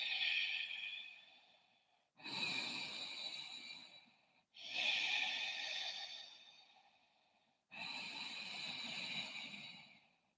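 Slow, deep breathing during a yoga hold, three long airy breaths with quiet pauses between, close and soft, with no talk.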